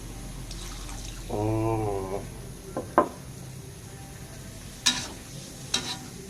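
Spicy catfish being stir-fried in a pan with plenty of water and little oil gives a quiet bubbling sizzle, broken by a brief tonal hum and a few sharp, close clacks of a spatula striking the pan.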